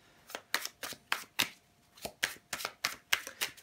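Tarot cards are shuffled in quick riffling bursts, about a dozen crisp papery flutters in an uneven rhythm, close and fairly quiet with no talking.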